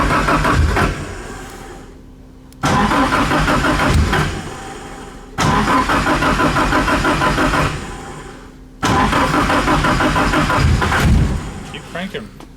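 A Datsun 510 with a swapped SR20DET engine cranks loudly in repeated bursts of starter whir, separated by short pauses, close to the microphone.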